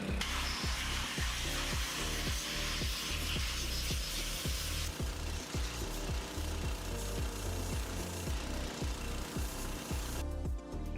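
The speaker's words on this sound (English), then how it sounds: "I had to blast the rest off with a powerful pressure sprayer" A loud, continuous high-pressure spray blasting a casting shell off metal castings, with rhythmic rattling thumps underneath and brief shifts in the hiss.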